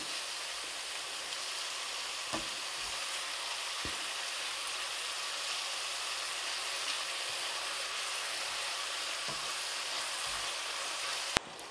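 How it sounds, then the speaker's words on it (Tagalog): Sliced sweet potato (kamote) chips deep frying fully submerged in oil give a steady, even sizzle with light crackle and a few sharp pops, nearby and uninterrupted, no voices. "yung kamote natin ay lubog na lubog sa mantika para magiging crispy talaga siya"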